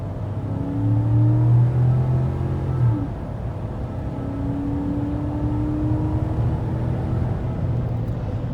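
A 2017 GMC Sierra All Terrain pickup truck accelerates at full throttle, its loud, steady engine drone rising gradually in pitch over several seconds, with no talking.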